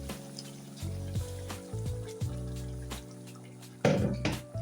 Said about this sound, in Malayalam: ഗ്രേവിക്കും വേവുന്നതിനും ആവശ്യമായിട്ടുള്ള വെള്ളം ഒഴിച്ചു കൊടുക്കാമേ